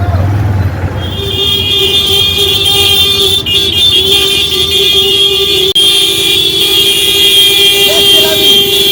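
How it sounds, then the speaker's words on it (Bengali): Wedding procession of bride and groom riding motorbikes, horns sounding in a loud sustained blare over road noise. "সারা পাড়ার লোক মনে হয় উঠে পড়লো ওদের হর্নের আওয়াজে"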